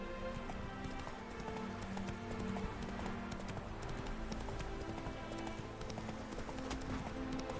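Horse hooves clip-clop steadily at a walking pace in The Witcher 3 video game, a continuous close rhythm over dense background music and ambience, with no talking.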